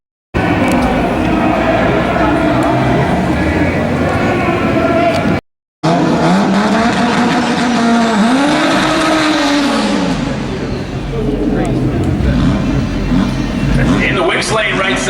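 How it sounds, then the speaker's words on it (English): At a drag strip in North Carolina, a drag racing car does a burnout as a loud, sustained roar of engine and spinning tires, rising and falling in pitch, with a brief cut and a public-address announcer talking over it. "In the Wicks lane, right side, just doing his burnout right there."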